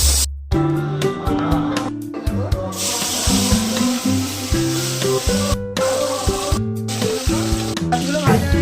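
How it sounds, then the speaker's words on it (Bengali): Pieces of katla fish fry in hot oil with a close, hissing sizzle, partly masked by loud background music with sustained tonal notes and brief gaps. "মাছগুলো ভাজা হয়ে গেছে, এবার তুলে নিলাম"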